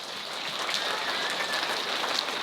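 A school assembly audience at a jazz band performance claps for the trumpet player, a dense, steady wash of many hands that is fairly loud and continuous throughout, with no talking.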